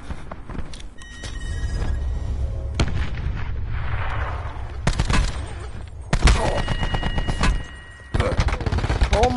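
Gunfire in Call of Duty: Black Ops 4, with dense bursts of shots and sharp cracks over a steady rumble of battle, loud and close, while a voice talks now and then.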